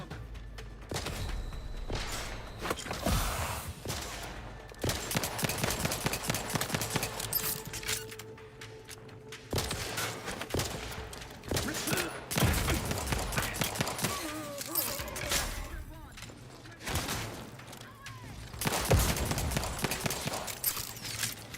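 Pistol and rifle gunfire in the video game Outer Worlds 2 comes as repeated sharp bursts and rapid volleys, alternating with brief lulls over a steady game background.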